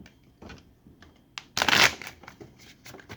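A deck of tarot cards being shuffled by hand, with soft riffling bursts and taps building to one loud, dense riffle near the middle, then lighter flicks trailing off, close up with no talk.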